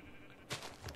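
A sheep bleats in the Minecraft video game, one short synthetic bleat at mid-clip followed by a fainter second call over quiet game ambience.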